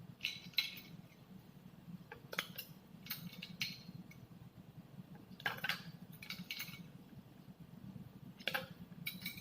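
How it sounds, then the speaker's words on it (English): Ice cubes clinking into a glass of milk sharbat, several bright clattering bursts scattered irregularly over a steady low background hum, close and moderately loud. "And now we have to add some ice cubes."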